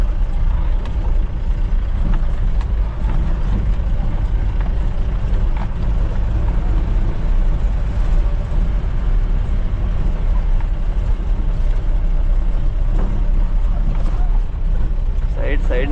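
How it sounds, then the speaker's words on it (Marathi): Heavy road traffic from a jam of trailer trucks queued near Mundra port in Gujarat, a steady low engine rumble and drone that holds for the whole stretch, with a person talking over it. "पोर्टची ट्रॅफिक आहे पूर्ण."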